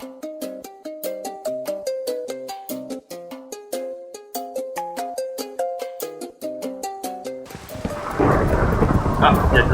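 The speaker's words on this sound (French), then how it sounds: "Ah, il y a de l'orage, on peut passer." Plucked, melodic game music plays for most of the stretch, then a loud thunderstorm with heavy rain suddenly takes over near the end in a flat-world survival video game.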